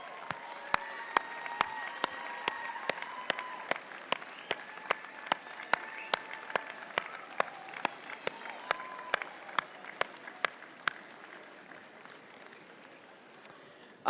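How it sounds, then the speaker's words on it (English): A commencement crowd at a College of Dentistry ceremony applauds steadily for about fourteen seconds, the dense clapping of a large audience in a hall, a few sharper claps standing out near the front, with scattered voices and a whistle mixed in. "let's hear a big round of applause for your family and friends and others"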